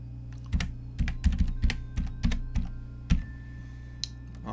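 A password being typed on a computer keyboard, a quick irregular run of about a dozen crisp key clicks, close and clear, with short pauses between bursts and no talking.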